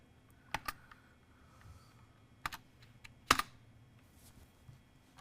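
Keys on a computer keyboard are tapped in a few sparse, separate clicks, close and crisp over a quiet room hum, with long pauses between strokes.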